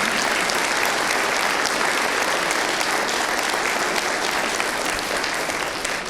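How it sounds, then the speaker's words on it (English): Audience applause fills a town hall at Walter Reed after a military readiness discussion, a dense, steady clapping that holds loud and even throughout with no voices breaking through. "let's just give a round of applause to this gentleman who took the time to come."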